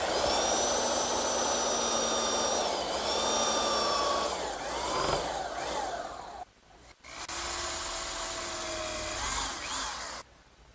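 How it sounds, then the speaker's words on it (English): Belt sander grinding away excess wooden dowel on a writing desk frame, a loud high whine that dips and rises as pressure changes, cutting out briefly near the end. "now I'll just use my belt sander to remove the excess dowel"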